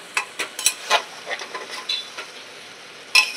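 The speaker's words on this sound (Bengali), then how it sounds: "মাংসটা একটু ঢাকা দিয়ে কষিয়ে নিতে হবে।" Meat being sautéed in a pan after releasing its juices, with a steady soft sizzle under a series of scraping stirs from a utensil, close and fairly loud, with no talking.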